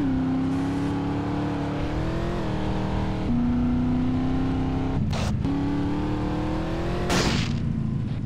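A car in the video game GTA San Andreas drives with a steady droning engine hum that shifts slightly in pitch, broken by a few brief bursts of noise near the end; nobody speaks.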